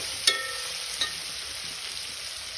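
Onion frying in a pan while being stirred, a steady broadband sizzle with two brief clinks of the spoon near the start, close and moderately loud with no talking.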